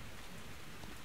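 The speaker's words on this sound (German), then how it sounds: "Und es regnet." Steady rain falling in the video game Metro Exodus, a dense, even hiss that holds without a break through the whole moment, with no voices over it.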